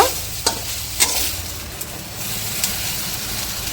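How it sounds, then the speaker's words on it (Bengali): Jute leaves lightly frying and being stirred in a pan, a steady close sizzle with a few sharp scraping clicks of the spoon at the start, no talking. "আমি পাট পাতাটা হালকা একটু ভেজে নেবো"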